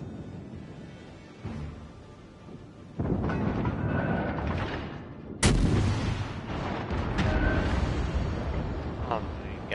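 Warship guns firing in the naval game World of Warships: Legends: heavy, booming blasts with rolling rumble, one near three seconds and a louder one past five, over steady battle noise and faint voices.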